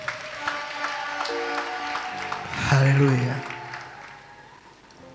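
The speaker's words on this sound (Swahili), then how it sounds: "mpeni Yesu makofi ya shangwe" A congregation bursts into applause at a church ceremony, steady clapping that swells to a loud peak before fading, with voices calling out over it and a background tone of music.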